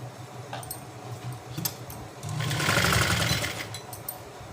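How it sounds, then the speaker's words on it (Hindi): A domestic sewing machine stitches a plazo, a quick whirring run of needle clatter that starts in short bursts and then runs steadily, close, with no talk. "पहले मैं आसन पे सिलाई लगाऊंगी।"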